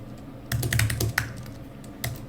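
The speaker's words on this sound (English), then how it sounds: "We can just type that right here." Keys clatter on a computer keyboard as a search is typed, a quick burst of close clicks followed by a pause and a few final taps, with no talking.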